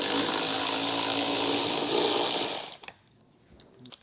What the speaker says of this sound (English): This is going to be a T30 Torx bit, and we have 2 on each side.